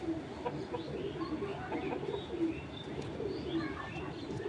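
Racing pigeons in a loft give soft, low cooing, several birds overlapping in a steady murmur with faint chirps above, close by and continuous throughout.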